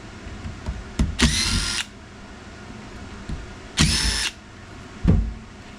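A power drill spins out screws from a dump bed actuator motor on a Kandi Cowboy / Innovator utility vehicle, in three short bursts, two longer whirs and a brief final one, close and loud with quiet handling noise between.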